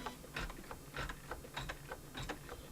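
A computerized embroidery machine makes its last stitches in a steady run of rhythmic mechanical clicks and whirs, several stitch cycles close by and fairly quiet, with no speech.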